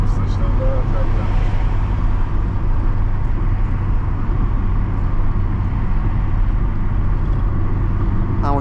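Loud, steady engine and road noise inside a 1994 Daewoo Espero on a test drive, a continuous low drone with someone talking over it.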